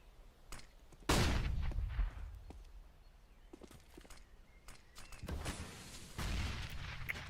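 Rapid gunfire exchanges in a professional Counter-Strike match, with loud broadband bursts at about one second and again near five and six seconds, plus scattered sharper single shots between them and no talk.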